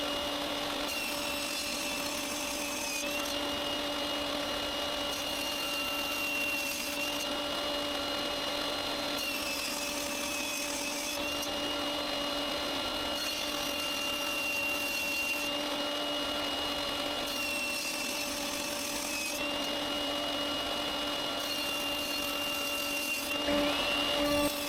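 A power saw rips maple pieces into narrow strips in a woodworking shop, a continuous loud whine with brief dips in pitch recurring every few seconds as each cut is fed through.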